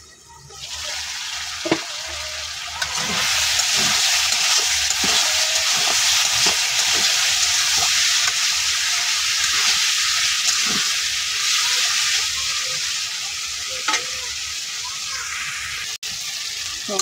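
Spice paste sizzles and fries with small puti fish in a pan, a steady loud hiss holding for most of the time with scattered clinks of stirring against the metal.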